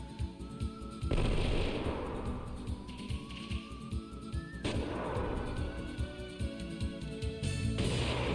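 Rapid gunfire bursts from the PS2 role-playing game Wild Arms 3, loud repeated automatic shots in several sustained volleys with a brief pause between them, with no talk over it.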